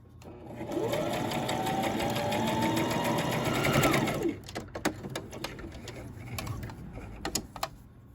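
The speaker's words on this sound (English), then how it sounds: "you stitch along that straight seam there in a 5/8 of an inch seam allowance" A sewing machine stitching the straight seam of a jogger leg band, a fast steady whirring run of about three seconds, then a series of short clicks and taps as the fabric is handled.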